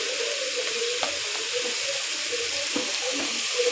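Onion and garlic paste frying in mustard oil in a pan, for a fish and potato curry, gives a steady, even sizzle throughout with no voices.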